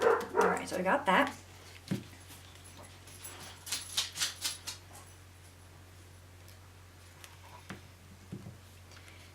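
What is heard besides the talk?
dogs barking next door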